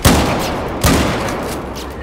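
Shotgun fire from a SPAS-12 in the video game Battlefield 4: two loud, close blasts about a second apart, each with a broad booming crack that rolls off into a long noisy tail.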